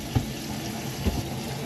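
Water runs steadily down a newly installed mobile home sink drain, a constant rushing flow with two soft low thumps partway through.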